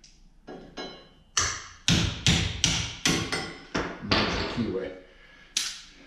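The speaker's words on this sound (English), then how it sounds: "then hit it with a hammer." A hammer strikes the bottom of a keyway during Can-Am X3 wheel bearing maintenance: about a dozen sharp metallic blows land close up in an uneven series, some in quick pairs, each ringing briefly before the next.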